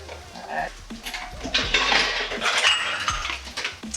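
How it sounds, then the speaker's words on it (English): Eggs are cracked and whisked in a kitchen for a pizza frittata, with busy close-up clinks and scraping of a utensil against a bowl, irregular and fairly loud, under faint voice sounds. "So now we're going to crack and whisk."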